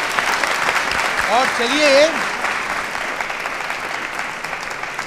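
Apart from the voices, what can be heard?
applause from quiz show audience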